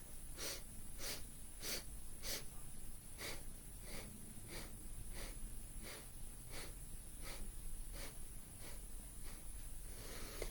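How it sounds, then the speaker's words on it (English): A person does a breathing exercise of four short sniffs in and eight sniffs out, a quiet, evenly spaced run of about a dozen close, soft sniffs over faint background hiss. "what the breath looks like is it's the 4 sniffs in, 8 sniffs out."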